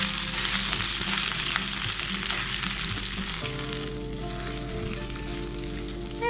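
Beans fry in a pan with a steady, close sizzle and crackle that holds for several seconds, with no talking.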